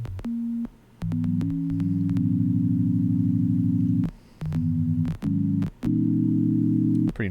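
Plain default patch on the Nambu software synth, sustained buzzy tones played as a short melodic sequence of held notes with brief gaps between them, clean and alone.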